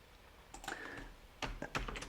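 Several keystrokes on a computer keyboard, close and fairly quiet, a few scattered clicks followed by a quicker cluster of taps near the end.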